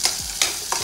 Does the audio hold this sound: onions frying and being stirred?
yes